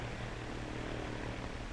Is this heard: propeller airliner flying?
yes